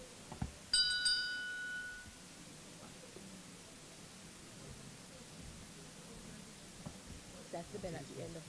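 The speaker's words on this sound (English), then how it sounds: "That's the bell at the end of 3 minutes?" A timing bell rings once, clear and ringing, at the end of a three-minute slot in a public service speaking competition, then fades into quiet room noise with faint murmuring voices afterward.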